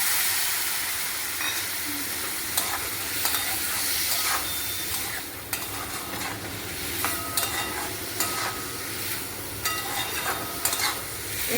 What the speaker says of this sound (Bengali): দু চামচ জল দিচ্ছি এটা